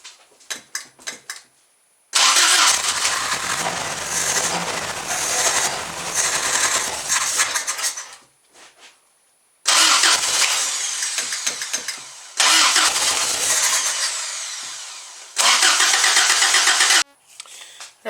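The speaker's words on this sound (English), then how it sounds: "when it is running there, the timing sounds way out of whack" Toyota engine cranking and catching repeatedly, loud rough running bursts that cut out and restart several times, uneven and choppy from poor timing.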